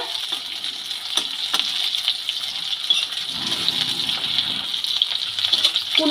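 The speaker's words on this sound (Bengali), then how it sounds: "সিম ভাজা প্রায় হয়ে এসেছে" Flat beans hiss and sizzle steadily in a hot pan, a bright continuous frying sound with a few sharper crackles.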